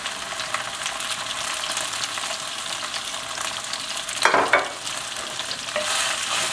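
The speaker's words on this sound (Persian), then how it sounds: "حالا بامیه رو سرخ میکنیم" Okra fries in oil in a frying pan, giving a steady close sizzle with stirring and a brief louder burst of crackle near the end. No talking.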